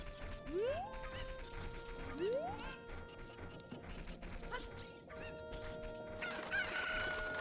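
Cucco chickens from a Zelda game cluck and crow repeatedly in rising squawks, mixed with game chimes and effects, at moderate volume with no talking.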